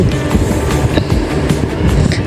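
Passenger train travelling on the Kamalapur to Mawa line, a steady close rumble with faint rhythmic clicking from the wheels throughout, heard alone without voices.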